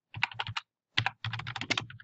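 Quick bursts of typing on a computer keyboard while entering a project name, several rapid clustered keystrokes, a short pause, then a longer run of clicks, close and crisp.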